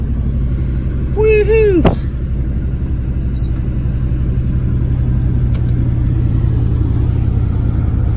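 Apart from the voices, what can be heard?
1990 Buick LeSabre Estate engine running after cold start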